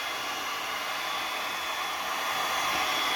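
A heat gun on its high setting blows a steady, loud, close airy hiss while heating a Mercedes headlight lens cover, unchanging throughout with no voices.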